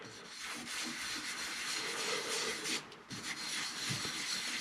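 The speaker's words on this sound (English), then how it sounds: "When this is spinning with the abrasive paste, you can both feel and hear as the grit breaks down." A wooden goblet spinning on a lathe while abrasive sanding paste is worked against it, giving a steady, faint gritty rubbing hiss that briefly dips near the end, with no voices.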